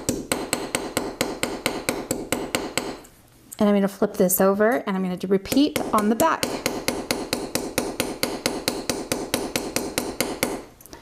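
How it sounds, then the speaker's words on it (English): A small hammer taps tube rivets in steady, rapid light strikes close by, with someone talking throughout and a short pause in the middle when the hammering stops. "I'm going to take that little hammer of mine,"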